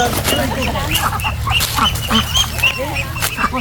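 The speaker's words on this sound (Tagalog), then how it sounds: "Kadaming pato." Ducks quack repeatedly in a busy, overlapping chorus at a farm in Mindoro, short raspy calls scattered throughout, with people talking underneath.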